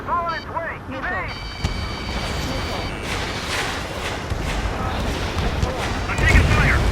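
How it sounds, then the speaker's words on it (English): Ace Combat 7 combat in an F-35C Lightning II brings an incoming missile with rumbling explosions and gunfire, plus jet noise and a continuous roar under radio chatter and shouted voices. "Hostile has a lock. Missile on its way."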